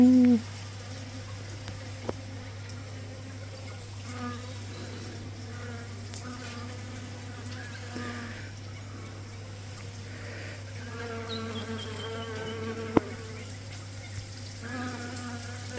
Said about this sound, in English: The bees just love this salvia.